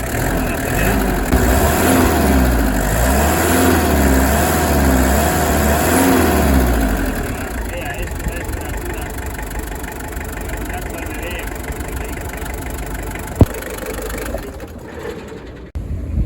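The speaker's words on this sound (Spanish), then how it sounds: "Mirad cómo ruge este motor." A Toyota LJ70 with a 2LT diesel engine runs outdoors after a timing belt change, a steady close rattling idle with a rev that swells and settles, while someone talks over it.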